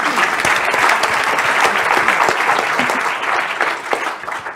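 Dense, steady applause from an audience at a talk about a start-up's trip to CES, holding strong throughout and easing off slightly at the end.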